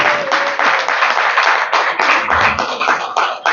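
A conference audience applauds loudly and continuously, dense clapping from many hands filling the whole stretch with no talk over it.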